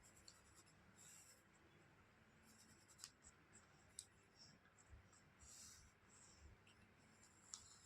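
A pen writes Bengali calligraphy letters on paper, making soft, quiet scratching strokes in short intermittent bursts with small taps between them.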